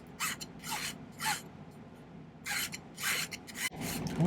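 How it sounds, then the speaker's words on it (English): A hand file scrapes across the top and bottom edges of a silver porthole ring at a jeweller's bench, in several short, quiet rasping strokes separated by pauses. "I'm going to file the top and bottom just a skosh."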